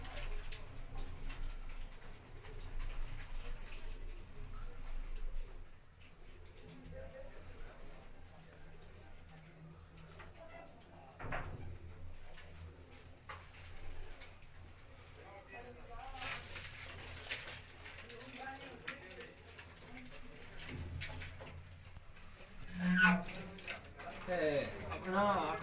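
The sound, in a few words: champion pigeons cooing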